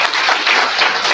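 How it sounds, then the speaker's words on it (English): Conference audience at an engineering department's national conference giving a round of applause, a brief, fairly loud patter of many hands clapping steadily. "A big round of applause for them."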